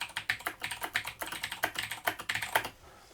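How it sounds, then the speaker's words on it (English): Rapid typing on a Razer BlackWidow mechanical keyboard: a close, crisp series of sharp clicky keystrokes in a quick uneven rhythm, alone and fairly loud. "this is how it sounds when I'm typing on a mechanical keyboard."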